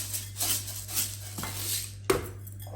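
A utensil stirs rock salt through grated courgette in a bowl, giving soft scraping and light clinks against the dish in an irregular rhythm, close and alone.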